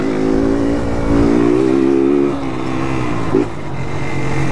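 A car engine revs hard and holds a loud, rough growl while the brake is held, dipping briefly before surging again in short bursts, close and unaccompanied by voices.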